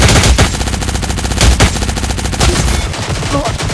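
Gunfire in the Cyber Hunter video game rattles as dense, loud automatic bursts, rapid shots blending into a continuous barrage that thins briefly near the end.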